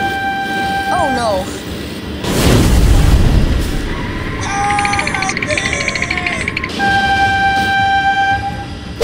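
A train rushes near with a loud broadband roar and deep rumble in a cartoon scene of cars and a bus, while a horn-like tone sounds and excited voices shout over it.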